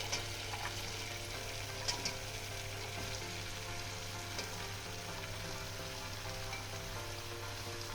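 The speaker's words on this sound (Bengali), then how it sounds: "বাদ বাকিটা এখন আমি ইঁচড়ের সঙ্গে কষাবো এবার আমি দিয়ে দেবো কেটে রাখা ইঁচুর" Chopped green jackfruit sautés in spiced masala in a pan, giving a soft, continuous sizzle and crackle with occasional faint stirring scrapes and no voices.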